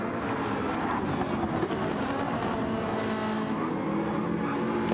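Race cars roaring past in the Ultimate Racing League game at the Seaside track, a dense, steady engine drone at close range with hints of tire squeal and no talk.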